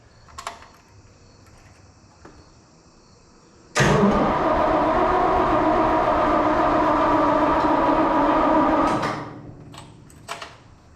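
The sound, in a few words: Farmall 460 tractor engine cranking over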